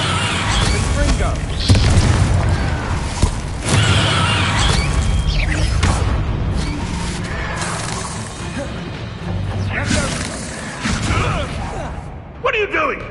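Confringo spell blasts in the Hogwarts Legacy video game, dense booming impacts and crashing debris thudding repeatedly across a busy battle mix, with people talking throughout.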